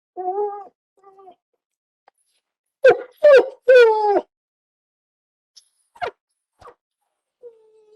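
A large dog gives a few short barks, then a cluster of whining, whimpering yelps and scattered faint sounds, heard close and alone with long quiet gaps, sounding unthreatening.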